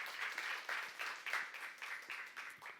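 A church youth congregation claps during a sermon, a rhythmic series of about ten roughly even bursts of hand claps, moderately loud and close, with no talking over it.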